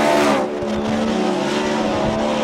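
A Ford Mustang drift car at a Formula Drift competition run in Irwindale roars with a loud, sustained exhaust note, with tire squeal mixed into the close, continuous engine noise.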